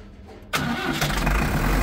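A 45 kVA Tata 709TC diesel generator cranks and catches after a brief quiet moment, then settles into a loud, rough, steady running rumble close by.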